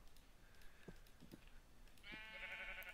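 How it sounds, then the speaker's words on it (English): A sheep in Minecraft lets out one faint, wavering bleat near the end, after a few soft clicks and taps. "And some sheep."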